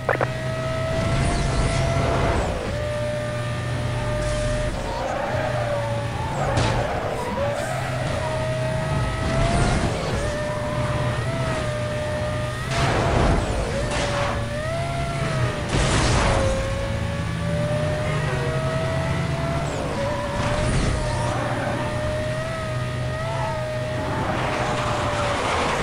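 A silver Porsche Carrera GT races in Need for Speed: Most Wanted, its engine holding a steady loud drone with sweeping pitch shifts and repeated whooshing passes and bursts, continuous throughout with no talk.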